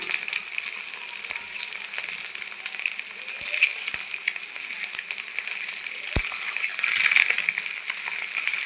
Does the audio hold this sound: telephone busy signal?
no